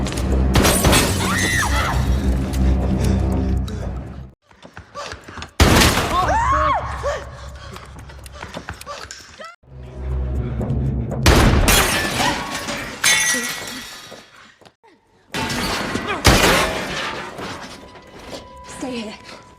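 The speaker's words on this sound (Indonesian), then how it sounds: "Dan tiba-tiba seseorang menembaki mereka." Gunfire and shattering glass from a shooting at a quiet house in the film Enola Holmes: a few sharp, loud bursts with breaking debris, separated by pauses and mixed with music and voices.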